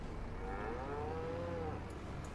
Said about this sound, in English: Now, I want to take a look at these cows here.